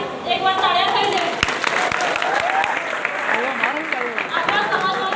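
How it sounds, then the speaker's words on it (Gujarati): Sustained audience applause for Chaitar Vasava at a tribal community gathering in Anand, Gujarat, steady and dense throughout with scattered sharp claps and crowd noise mixed in. "ચૈતર વસાવા સર માટે જોરદાર પાછી એકવાર તાળીઓ થઈ જાય."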